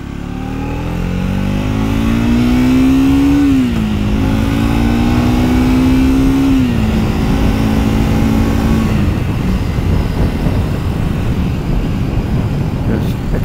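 A 2024 Triumph Speed 400 motorcycle revs up hard through the gears, its engine note climbing and then falling at shifts around four and seven seconds. It is loud and close before easing into a rushing wind and road roar.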